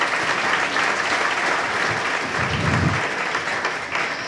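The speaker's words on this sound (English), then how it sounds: "So let's give them a round of applause." Audience applause at the Newport Chamber of Commerce banquet, a steady, full burst of clapping from the crowd lasting the whole stretch.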